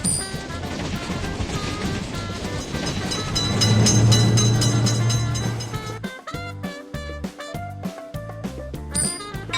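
A train in a video game passes a level crossing: a dense rumbling wash grows loud around a deep steady drone, then turns into a punchy, evenly spaced clatter. No talking is heard.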